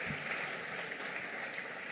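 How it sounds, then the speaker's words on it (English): Audience applause at a fashion show event in Bengaluru, a steady dense wash of clapping from a crowd that continues evenly throughout without a break. "a huge round of applause, ladies and gentlemen"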